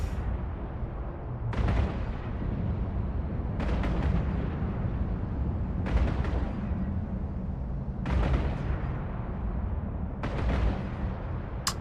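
Spaceship turrets firing in EVE Online, roughly every two seconds: five or six heavy booming volleys, each with a sharp crack and a rumbling tail, over a steady low drone.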